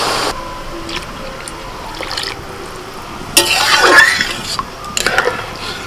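Water poured into a pot of rice for vegetable pulao gives a few splashy bursts between quieter drips and clinks, rising into a louder pour near the end.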